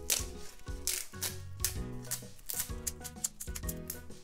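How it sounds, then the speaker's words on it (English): Dry sheets of nori seaweed are torn by hand into small pieces in a home kitchen, giving a quick series of close, crisp crackling rips with short pauses between them. "for the nori seaweed, I'm just gonna rip it in small pieces"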